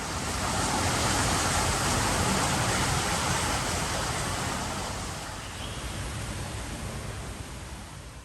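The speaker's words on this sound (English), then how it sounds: "You can hear the soothing sound of flowing water coming from a 3-story waterfall that flows into a central pond." A three-story waterfall spills into a central pond at a hotel in Bali, giving a steady, dense rushing wash of falling water that stays constant and close throughout, with no voices.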